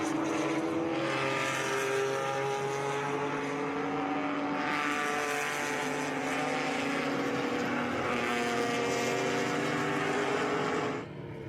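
Race cars at the Rolex Monterey Motorsports Reunion roar in a continuous, fairly distant engine drone. The pitch shifts slightly as cars pass, then it cuts off near the end.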